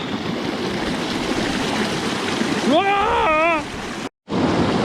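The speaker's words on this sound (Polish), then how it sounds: "Patrzcie jak tu fajnie wybija woda" Steady broadband rush of a waterfall fills the whole stretch, with a brief voice rising over it near the end and a short dropout just after.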